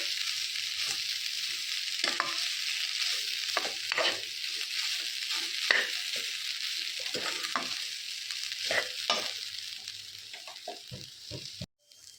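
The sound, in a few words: onions frying in a pan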